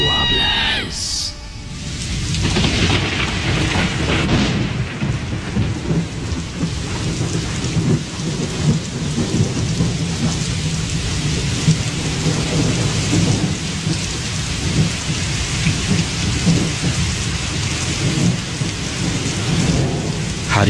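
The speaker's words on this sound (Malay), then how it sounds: "Hujan begitu lebat di kawasan rumah saya" Heavy rain pours steadily with rolling thunder, a loud crack near the start, then a dense continuous downpour and low rumbles filling the whole stretch as a played storm effect.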